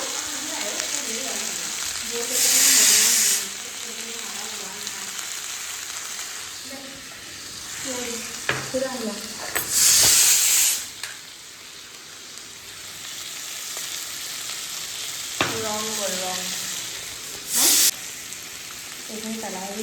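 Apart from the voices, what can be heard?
potatoes frying in hot oil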